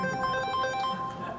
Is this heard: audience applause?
no